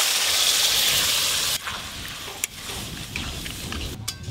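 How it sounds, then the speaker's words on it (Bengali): Curry with mustard paste, boiled potato and radish in a pan, a loud steady hiss and sizzle that drops suddenly, then a quieter simmer with a few clinks. "গুটগুট করে ঝোলটা ফুটা শুরু হয়ে গেছে"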